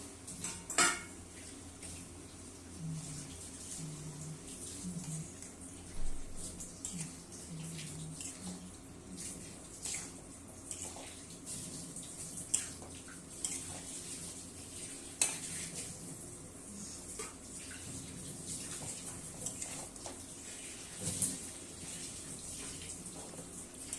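Cauliflower goes into a gravy in a pan and is stirred, giving a low, steady sizzle with scattered metal scrapes and clinks of a spoon against the pan, close but quiet and without talk.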